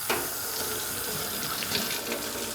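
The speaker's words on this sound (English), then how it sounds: "Let me go ahead and wash my hands." A sink faucet runs steadily for handwashing, a close, even hiss of flowing water splashing into the basin, loud and continuous with no talking.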